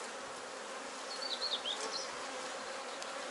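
Honey bees buzz at an open hive, a dense continuous hum from many insects close by, with a few individual bees whining louder as they pass near.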